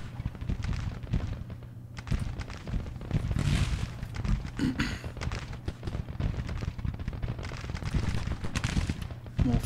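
Civil War troops exchanging fire in the strategy game Grand Tactician, a continuous crackle of massed musket shots with scattered heavier reports, dense and steady, heard at a middle distance over a low battlefield rumble.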